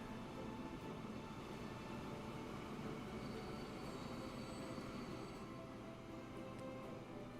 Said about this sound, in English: This is just a mixed goods train coming out and getting involved